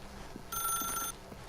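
A telephone in The Stanley Parable gives one short, bright electronic ring of about half a second, rising sharply over a quiet room background and then cutting off.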